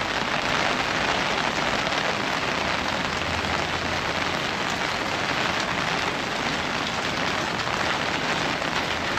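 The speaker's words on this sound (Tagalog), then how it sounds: "Grabe, lakas ng ulan." Heavy rain pours down steadily in Taiwan, a dense, continuous hiss of drops hitting surfaces, close and unbroken with no voices.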